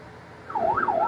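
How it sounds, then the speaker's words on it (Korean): A fire truck's wailing siren rises and falls in a clear up-and-down sweep, starting partway in over low traffic rumble as it passes between lines of cars. "소방차 한 대가 사이렌 소리를 울리며 줄지어선 차량들 사이로 빠르게 지나갑니다"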